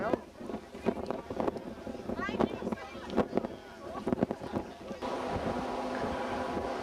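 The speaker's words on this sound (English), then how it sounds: "The wind's blowing a bit now." Wind gusting across the open deck of a Sea Princess cruise ship sailing among small icebergs near the Greenland coast, a steady rushing buffet under scattered voices that swells to a constant roar.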